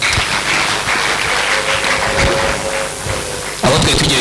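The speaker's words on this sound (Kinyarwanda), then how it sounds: "Mumwanyira amashyi." A hall audience breaks into dense applause at a gathering, loud and close, a continuous patter of clapping hands lasting a few seconds.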